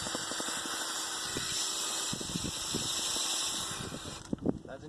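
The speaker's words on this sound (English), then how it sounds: "This is speed 1 for the Ryobi snowblower." A Ryobi snow blower driven by a Ryobi 1/2 inch hammer drill runs at speed 1, giving a steady close mechanical whir and hum with some rattling and a voice partly over it.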